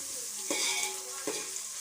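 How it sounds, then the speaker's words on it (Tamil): Onions sautéing in a pan for Chennai-style duck curry make a steady, soft hiss and sizzle, with a few faint stirring scrapes at regular intervals, moderately close. "வச்சு வெங்காயம் நல்லா வதங்கட்டும், அதுக்கப்புறம் பார்க்கலாம்"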